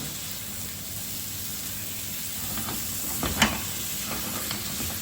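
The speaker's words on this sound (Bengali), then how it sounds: "এক টেবিল স্পুন দিয়ে আমি নেড়ে নেব" A tablespoon stirs sugar into sizzling fish curry in a pan, giving a soft continuous hiss with a few faint scrapes and one sharper clink near the middle; no speech.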